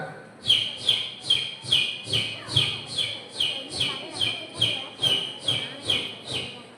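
A voice imitates a baby chick's cheeping during a mimicry act at a church feast-day celebration, a steady run of about thirteen short, bright peeps at a quick even pace, close and alone.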